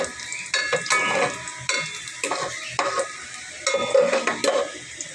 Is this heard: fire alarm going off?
no